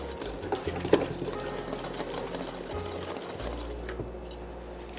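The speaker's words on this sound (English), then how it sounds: "Get a big whisk and whisk it all together until it is well mixed." A big whisk works through dry vegan biscuit ingredients in a bowl, made without oil or butter, giving a continuous rhythmic scraping and swishing with occasional louder clinks against the bowl.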